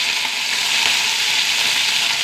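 Mustard seeds, fenugreek, dried red chillies and curry leaves spluttering in hot oil, a dense continuous crackling sizzle, close and steady for the whole moment with no talking.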